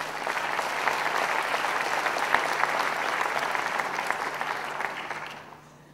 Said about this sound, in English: you deserve a warm round of applause for a very excellently